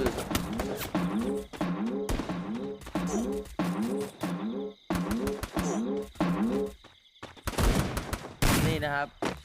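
Bursts of rapid gunshots in Free Fire ring out in a quick, punchy rhythm, each volley paired with a warbling, chirping tone, and heavier firing closes out the sequence.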